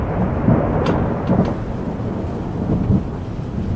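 A thunderstorm with heavy downpour high in the Tatra mountains: steady rain hiss fills the clip while low rumbles of thunder roll in and out, moderately loud and continuous with no voices.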